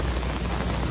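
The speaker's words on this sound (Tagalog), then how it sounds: "malakas po yung ulan ngayon" Heavy monsoon rain pours by the Marikina River near a small bridge, a dense, loud, unbroken hiss of drops striking surfaces and water, filling the whole short stretch without any voices.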